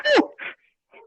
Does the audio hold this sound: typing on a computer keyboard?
no